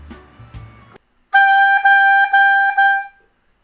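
An oboe plays three sustained notes, each begun by tonguing the reed, forming a steady detached sequence after a short stretch of softer, lower sound and a pause. No one speaks.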